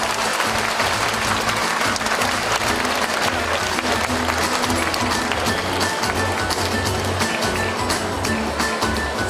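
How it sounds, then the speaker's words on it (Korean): An outdoor festival crowd applauds to welcome the deputy mayor at the Icheon Seolbongsan Starlight Festival, a dense, loud, steady wash of clapping over a low rumble from the stage sound system. "박수로 환영해 주세요."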